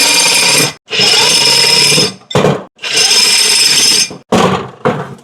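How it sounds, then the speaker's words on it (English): A step drill bit bores out the stud holes of a brake rotor for an OBS Chevy short bed truck: loud, continuous grinding bursts that stop and restart, three long runs broken by short gaps and brief stuttering catches. "I couldn't find a bigger drill bit, so I just used my step bit over here"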